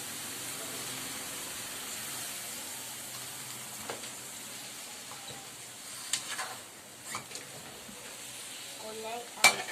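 Fish bagoong stirred into a pan of frying pinakbet with tomato sauce, a soft continuous sizzle under scattered scrapes and clinks of a utensil, fairly quiet and close.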